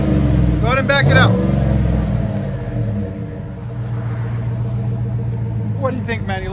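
A GMC Yukon V8 fitted with a Flowmaster Super 10 exhaust idles with a deep, steady low rumble throughout. People talk briefly over it near the start and again at the end.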